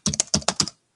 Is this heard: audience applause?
no